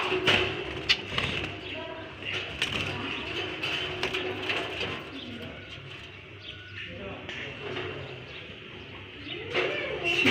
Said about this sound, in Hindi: ये देखिए ये है तोता।